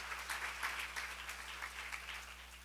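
Steady applause from a church seminar congregation during a sermon on Jeremiah, a continuous dense patter of clapping at moderate level with no voice over it.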